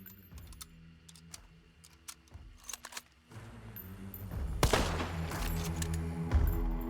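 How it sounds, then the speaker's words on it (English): A gun partially reloaded in Hunt: Showdown gives a quick run of metallic clicks and rattles, followed by a louder, denser burst of mechanical handling and firing noise, close with no talk. "Here's what happens when you do a partial reload"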